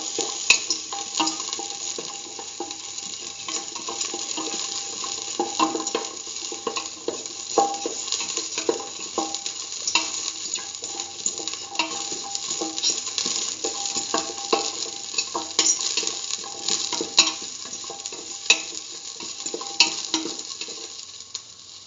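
Salted shallots sautéing in a pan with steady stirring, a continuous sizzle and fry alongside scraping of a utensil against the pan, close and fairly loud throughout, no voices.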